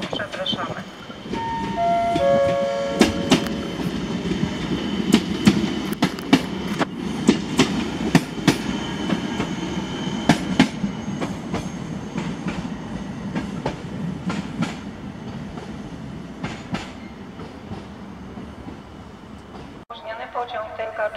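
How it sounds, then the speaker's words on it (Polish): A TLK Czechowicz passenger train hauled by an EP09 electric locomotive rolls through Łowicz Główny station in Poland, a long steady rumble with rhythmic wheel clicks, opening with a station chime and carrying on under public-address speech. "Pociąg Tymka Czechowicz ze stacji Szczecin Główny do stacji Białystok przez stację Warszawa Zachodnia, Warszawa Centralna, Małkinia jedzie na tor drugi"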